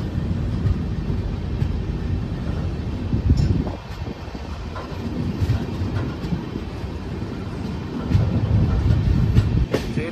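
Howrah to SMVT Bengaluru Superfast Express 12863 runs on the tracks through hilly country, heard from inside an AC 3-tier coach as a loud, steady rumble with rhythmic clickety-clack and brief dips.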